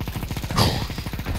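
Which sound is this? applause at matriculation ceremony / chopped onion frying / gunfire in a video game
gunfire in a video game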